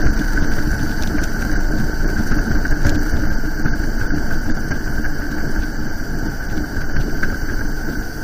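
A Harley-Davidson motorcycle engine running steadily while riding, a loud continuous low rumble with wind noise over the microphone and no speech.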